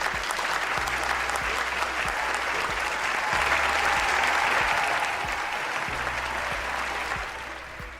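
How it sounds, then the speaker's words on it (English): A studio audience at a Lagos money-talk show applauds a welcomed guest with loud, sustained clapping and a low rhythmic music beat underneath, the applause swelling midway then easing off. "Lagos is standing up for you and applauding you"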